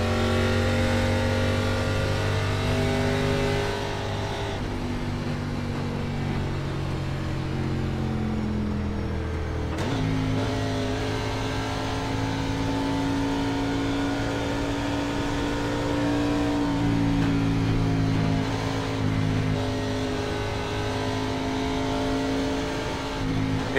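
NASCAR Xfinity Series stock car engines in the iRacing simulator at Indianapolis Motor Speedway, a steady loud engine drone with shifting pitch as revs rise and fall, no talking over it.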